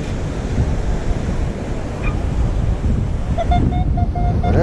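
Strong wind buffets a beach, a loud, constant roaring rumble with surf mixed in, and faint electronic beeps from a metal detector chirp near the end.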